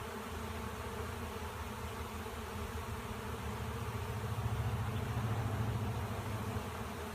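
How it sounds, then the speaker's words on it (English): A dense, continuous hum of a honey bee swarm buzzing in the air, steady and close, with no voices. "all the humming you hear is still bees in the air"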